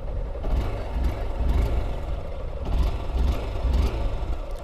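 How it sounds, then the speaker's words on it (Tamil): A Honda SP 160 motorcycle's 160cc engine idles steadily nearby, a smooth, low, even rumble with no talking. "பயங்கர ஸ்மூத்தான ஒரு இன்ஜின்."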